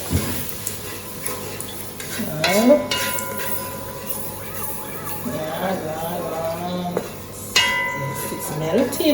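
Sugar melting in a hot pan with chicken gizzards, giving a steady low sizzle with a few clanks and scrapes from stirring, while a voice talks over it.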